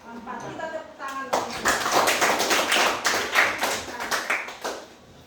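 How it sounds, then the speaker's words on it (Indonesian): Applause from a classroom group breaks out after a brief spoken line, a dense burst of clapping hands that carries on steadily for several seconds. "Kita tepuk tangan."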